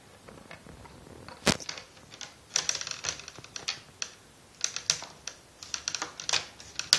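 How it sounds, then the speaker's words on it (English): Plastic screen bezel on a Dell E6520 laptop being pressed back into place, giving a string of sharp, close snaps and clicks in irregular bursts, with one especially loud crack early on, in a quiet room. "This pretty much just clicks into place."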